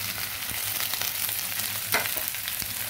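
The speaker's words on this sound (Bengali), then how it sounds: "আদা রসুন পেঁয়াজ বাটাগুলো ভাজা হয়ে গেছে।" Paste of ginger, garlic and onion frying in oil with spices for chana masala, a continuous dense sizzle close up with occasional stirring scrapes and no talking.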